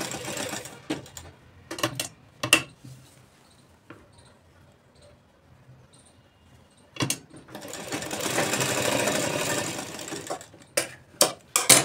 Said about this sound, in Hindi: यहाँ से हमें एक पैर की मार्जिन छोड़कर सिलाई लगाना है।